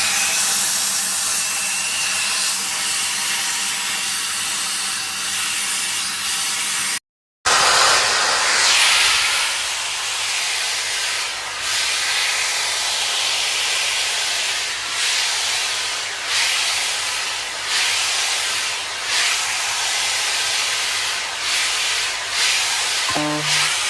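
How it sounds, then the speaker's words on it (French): A hair dryer fitted with its standard nozzle attachment blows a loud, steady hiss up close. The airflow cuts out for a moment, then restarts and runs on with slight changes in tone. "Vous avez l'embout normal pour le sèche-cheveux."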